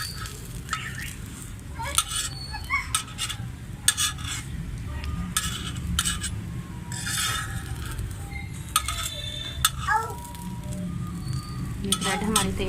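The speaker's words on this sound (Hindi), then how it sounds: "ऐसे ही हम बाकी के ब्रेड जो हैं उनको भी फ्राई कर लेंगे।" Egg-batter-dipped bread slices fry in a pan with a steady low sizzle, broken by repeated scrapes and clinks of a spatula against the pan and utensils throughout.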